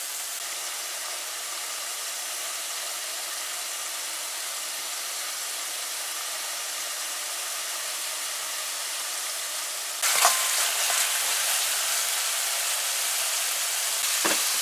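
Curry paste frying in a pot for a pumpkin bhunjal dish, a steady broadband sizzle throughout that grows louder and brighter near the end, likely as the paste is stirred, with no talk.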